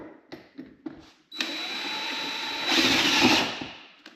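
Power drill boring through the plastic while mounting a Rough Country LED fog light on a 2007-2013 Chevy Silverado, a few taps and clicks, then a steady close whine that grows louder toward the end with no talk.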